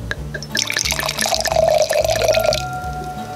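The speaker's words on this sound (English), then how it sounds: "So let's go ahead and give it a pour." Red Tempranillo wine poured into a glass at an outdoor wine festival, a steady liquid stream rising in pitch as the glass fills over a few seconds, close and clear over a rhythmic low background thump.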